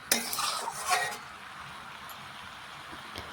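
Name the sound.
mixing bottle gourd with fish oil in a pan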